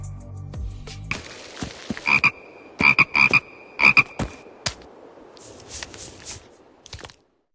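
A bullfrog croaks in a cartoon scene, a short burst of four or five loud, throaty croaks in quick succession, clear and close, with quieter rustling and dripping noises before and after.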